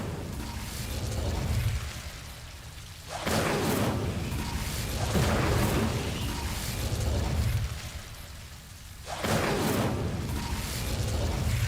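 An Incendio fire spell cast in Hogwarts Legacy produces repeated whooshing, fiery bursts. Several loud surges of flame roar in waves, each swelling and then dropping back to a lower rumble, with no talk over them.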